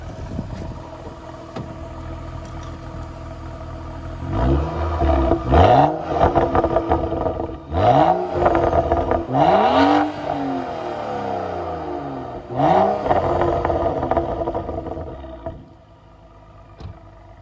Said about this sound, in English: I'm gonna actually rev it for a little bit so you can hear.